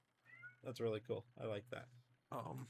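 A house cat meows several times during a gaming stream, the calls mixed in with a person talking close to the microphone over a steady low hum.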